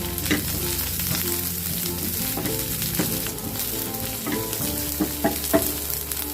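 Garlic and onion fry in a hot pan, a constant close sizzle with a spatula repeatedly scraping and tapping through it, no talking.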